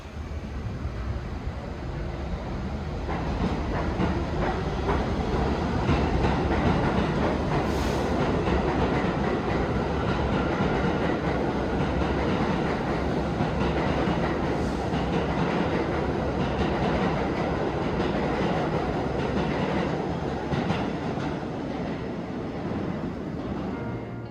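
A New York City subway train rumbles steadily throughout, with continuous low roar and faint rhythmic clatter of wheels on rails, loud and close, no voices.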